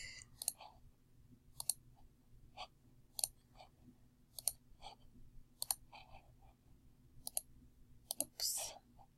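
Sharp computer mouse clicks, spaced about a second apart, come in a steady run while someone edits a handmade business binder. The clicks sound close and crisp over a faint, quiet room hum.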